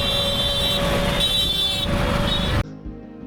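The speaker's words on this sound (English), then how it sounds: "Cars, bicycles, everything or everybody is honking all the time." Busy city street traffic in Jaipur, India, with a steady engine roar and sustained horn tones throughout, cutting off abruptly near the end.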